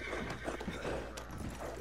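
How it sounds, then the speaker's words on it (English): Horse hooves clip-clopping on the ground in the video game Red Dead Online, a steady run of hoofbeats at moderate distance with no one talking over them. "Sorry, my horse got in your way, bro."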